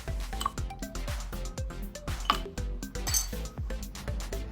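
Ice cubes clink and knock one after another into a glass while a mango martini is being made, a rapid series of bright, ringing taps close by over soft background music.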